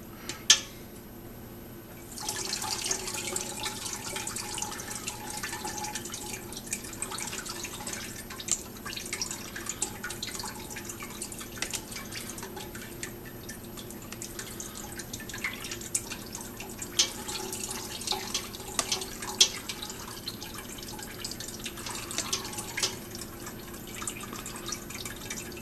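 Whey and water drain off warm, cottage-cheese-like curds while mozzarella is being made, a steady close trickle and dripping with small splashes running throughout, no talking.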